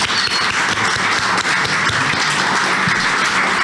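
A conference audience applauds warmly, dense steady clapping that stays loud and even throughout with no voices over it.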